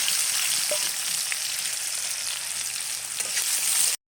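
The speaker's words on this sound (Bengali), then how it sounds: "এখন আলুটাও ভেজে নেব" Potatoes frying in oil in a pan, a steady close crackling sizzle with a few faint stirring taps, cutting off abruptly at the end.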